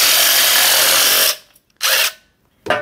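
A DeWalt DWASHSRIR shear attachment driven by an impact driver cuts with a loud, steady whirring rattle for over a second. Two shorter bursts of the same harsh buzzing follow after brief pauses.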